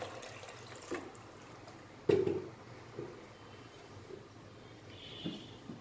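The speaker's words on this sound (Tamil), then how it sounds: "தண்ணி தேவையான அளவு தண்ணி ஊற்றிக்கோங்க." Water poured into a cooking pot for chenna biryani, soft splashes and a brief louder pour in a quiet kitchen, with no talking.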